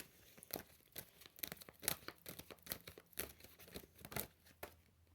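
Tarot cards being shuffled, a run of quick papery riffles and crisp card snaps that come in irregular bursts, close by and fairly quiet, with no voices.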